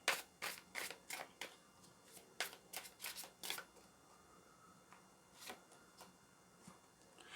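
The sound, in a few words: shuffling tarot cards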